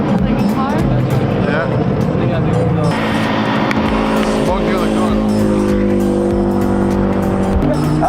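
On a race track, a Porsche 911 passes with a loud, sustained engine roar that climbs and shifts in pitch, along with some tire noise, as voices talk over it.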